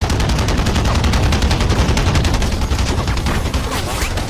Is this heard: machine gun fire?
yes